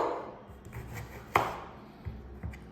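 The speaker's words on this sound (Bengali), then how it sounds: "এগুলোকে আমি 4 ফালি করে কেটে নেব" A knife chops through tomatoes into quarters on a cutting board, several distinct close taps spaced irregularly, one sharper hit standing out, in a quiet kitchen.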